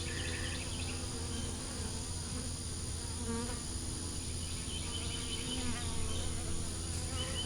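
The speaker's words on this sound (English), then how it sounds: "See how the bees are hanging around it?" Honey bees buzz steadily around a queen cell on a hive frame, a close, continuous drone with several individual insects whining past, and a low hum runs underneath throughout.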